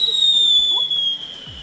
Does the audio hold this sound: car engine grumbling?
no